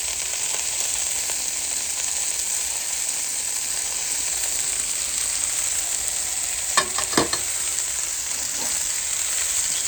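Pork sausages sizzle on a Callow four-burner gas plancha in a steady, close hiss, with a few brief clatters of turning or utensil contact about two-thirds through and no talk.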